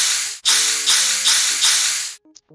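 A spray paint tool effect on an online drawing site, four loud, close bursts of airy spray hiss running back to back, then a brief, faint click or tone.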